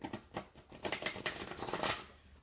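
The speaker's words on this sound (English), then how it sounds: "That's why I shuffle so much now." A deck of tarot cards shuffled by hand: rapid, close flutters and soft slaps in irregular bursts, with no talking over them.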